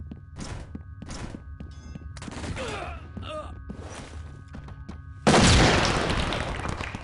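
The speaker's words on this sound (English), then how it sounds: "suspects are erratic and shooting each other" Suspects open fire on each other in the tactical shooter SWAT 4, producing a string of sharp, spaced gunshots and thumps at mid distance, followed by a sudden loud burst of sustained noise.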